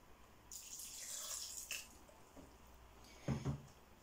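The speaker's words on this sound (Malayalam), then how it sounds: "ഇനി നമുക്ക് ഇതിലോട്ട് ആവശ്യത്തിന് വെള്ളം ഒഴിച്ചു കൊടുക്കാം" Water poured into a large mixer jar holding soaked rice for vattayappam batter, a soft splashing pour that fades to quiet dribbles, with a brief clink near the end.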